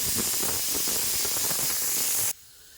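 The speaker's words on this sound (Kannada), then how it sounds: "ಇದು 4ನೇ ವಿಸಿಲು" Steady loud hissing of a pressure cooker whistle venting steam while Andhra-style pappu charu cooks, holding constant for about two seconds before cutting off abruptly into near silence.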